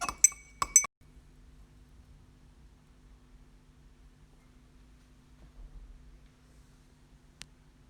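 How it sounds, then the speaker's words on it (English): A glass rod clinks a few times against a glass beaker while sodium hydroxide and hydrochloric acid are stirred. The quick, light taps come in the first second, followed by near silence and a faint background hum. "Now we add sodium hydroxide solution into the beaker of hydrochloric acid and stir the solution"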